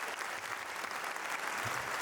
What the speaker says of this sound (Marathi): एकदा माणसाने जोरदार टाळ्या झाल्या पाहिजे.